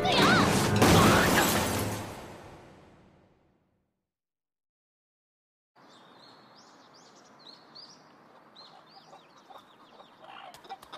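Rooster crows and clucks in an anime scene, bright repeated calls entering after a loud burst of other sound and a silent gap, fairly clear with faint background.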